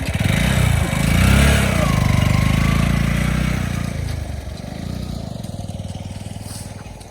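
A Bullet motorcycle's heavy single-cylinder engine thumps steadily at idle, close by and loud, with a slight rise and fall in its throbbing rhythm.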